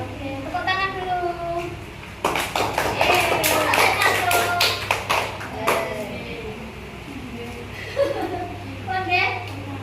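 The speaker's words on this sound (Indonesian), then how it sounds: "Oke, tepuk tangan dulu." A classroom of children claps together in a burst of brisk, sharp hand claps lasting a couple of seconds, set between a teacher's speech and the pupils' chatter before and after.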